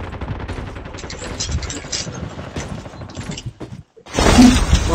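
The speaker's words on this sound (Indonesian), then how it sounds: "Power gila yang pakai shotgun ni." Shotgun fire in Call of Duty Mobile, a dense run of sharp bursts through most of the stretch, then a brief drop to near silence and a loud final blast.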